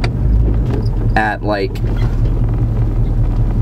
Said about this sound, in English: at 80 miles an hour, which is all right for a stock, completely stock station wagon